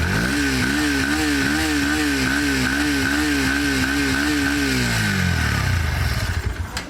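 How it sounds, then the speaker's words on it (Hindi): A Bajaj Pulsar NS160 or Yamaha FZ Rave motorcycle engine idles with a steady, throbbing rumble for several seconds, close and loud, then the chugging fades as it shuts off near the end. "अब एक बार स्टार्ट करके दोनों का ही साउंड सुन लेते हैं"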